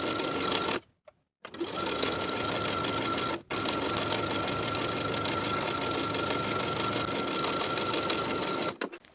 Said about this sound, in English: Sew the waistband to the top of the pant all the way around with a 3/8 inch seam allowance.